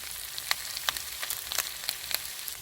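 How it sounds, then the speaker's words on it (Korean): Leftover pork trotters (jokbal) pan-frying until golden brown, a soft steady sizzle with scattered crackling pops, quiet and close with no talk. "자 이렇게 삼겹살처럼 노릇노릇하게 구워주었습니다"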